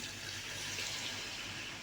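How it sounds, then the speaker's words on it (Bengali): Water poured into a cooking pot of spiced vegetables, a brief, steady rushing splash with no pauses. "এখন এটার মধ্যে পানি দেব।"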